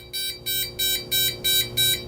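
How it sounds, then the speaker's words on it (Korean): A handheld voltage detector beeps its alarm as it nears live high-voltage electrical equipment, giving six evenly spaced, loud, shrill pulses at close range. "80cm부터 경보를 울려주는 거예요"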